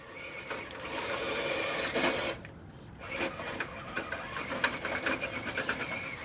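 An RC rock crawler on RGT EX86100 1.9-inch stock tires pushed at full throttle over a canyon obstacle, with whining motor and gear chatter that surges, drops briefly, then returns in uneven bursts.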